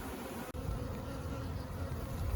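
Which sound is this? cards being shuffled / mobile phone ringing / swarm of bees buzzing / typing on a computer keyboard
swarm of bees buzzing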